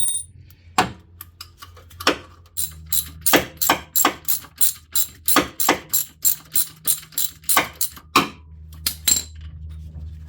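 A hand ratchet loosens engine bolts on a 2008 Acura MDX during engine block removal, rapid repeated clicking strokes in a steady rhythm, close and crisp, with a few pauses between bursts.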